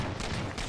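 Scattershot weapon firing in Halo 4 multiplayer on the Haven map, a quick pair of loud, close blasts in under a second amid game noise.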